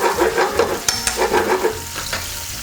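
Oil sizzles and crackles in a pan of shrimp and garlic on lowered heat, with a few sharp pops and stirring scrapes, steady and close, without any talking.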